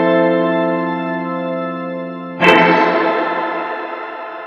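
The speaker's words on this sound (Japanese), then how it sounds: "音はシマーの音にしておきます。" Electric guitar through a Strymon BlueSky reverb pedal set to shimmer mode: a sustained chord rings with a bright, octave-shimmering wash, then a second strummed chord blooms into a dense, lingering reverb tail, played alone with no talk.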